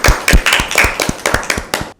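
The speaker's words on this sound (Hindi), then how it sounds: "ज़ोरदार तालियां।" Loud, close clapping for Team A at a school Bible quiz, with around eight sharp, irregular bursts of hands before it stops abruptly.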